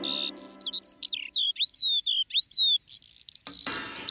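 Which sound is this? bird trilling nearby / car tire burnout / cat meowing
bird trilling nearby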